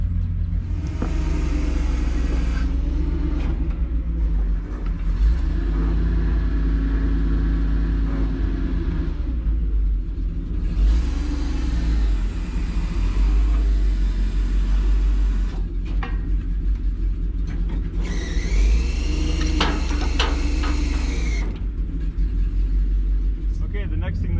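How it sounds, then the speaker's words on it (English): Hydraulic boom of a 1995 Kodiak truck's 57-foot National Crane raising and swinging, a loud steady engine and pump rumble with rising whines and shifting tones, continuous and close. "we're going to boom up, swing it around, and get ready to put the jib in place"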